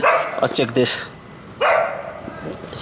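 A dog barks a few times in quick succession, fairly close, with someone talking over and between the barks.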